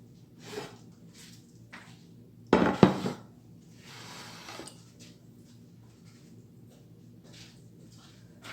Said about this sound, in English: I'm putting this in the baking pan, just like this.